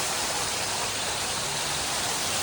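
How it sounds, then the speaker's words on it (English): A small waterfall in a rainforest-themed indoor garden at Kuala Lumpur International Airport pours steadily, a close, dense, hissing rush of falling water with no voices. "Got a nice little waterfall."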